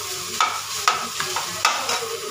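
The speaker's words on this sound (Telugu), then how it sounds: "వేగిన తర్వాత ఈ కారాన్ని నూనెలో వేల్చాలి." Chili powder frying in hot oil while being stirred, a continuous close sizzle broken by several sharp scraping strokes of the spoon against the pan.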